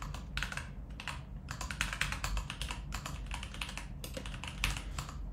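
Steady, rapid typing on a computer keyboard while entering credit card details on a payment page, dense bursts of close, crisp key clicks with short pauses between runs.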